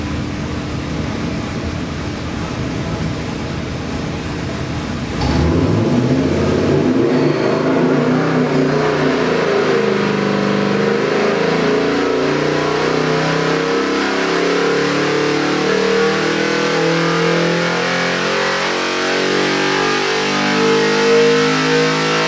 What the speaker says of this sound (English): these Hemis run so beautiful. The idles are perfect.